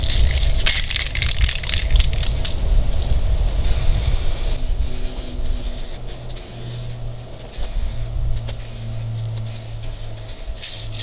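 Spray Max 2K clear coat aerosol sprayed onto a headlight, a loud close hiss in several long passes with brief pauses and a faint can rattle.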